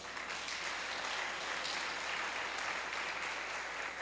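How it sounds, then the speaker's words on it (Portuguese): Steady applause from a church congregation at a communion service, a dense, even clapping that fills the room at constant volume throughout, with no voices standing out. "Quem acredita nisso, dê um aplauso ao Senhor."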